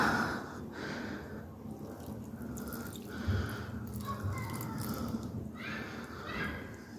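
Herb cuttings in small pots being watered, with a steady trickle and splashing of water into the soil punctuated by a few drips and knocks, close and moderately loud with no talk.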